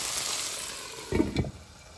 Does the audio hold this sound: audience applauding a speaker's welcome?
no